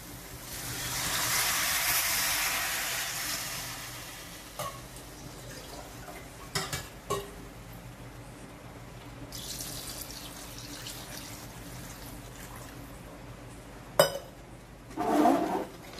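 Water pours steadily into a pot for a few seconds, followed by quieter kitchen clinks, a couple of sharp knocks and a brief scrape near the end.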